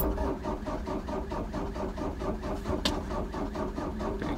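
Cold Ford Transit van engine cranking with a weak, failing battery, a steady slow rhythmic churn of the starter that turns over sluggishly without catching, moderately quiet and close, with one brief sharp click partway through.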